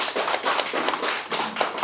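An audience at a commemorative panel discussion claps together, a dense, even round of applause that fills the short moment without speech.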